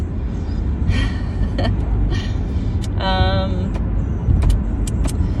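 A car driving along a road, with steady low engine and road rumble throughout, brief clicks and a short tonal chime partway through, and faint sounds of movement inside the car.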